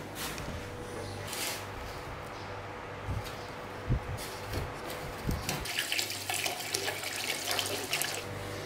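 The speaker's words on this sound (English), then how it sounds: "we put water in, and then we get this on the stove to boil" Water from a tap runs into a cooking pan for a base gravy, a steady close splashing stream with a few soft knocks and clunks along the way.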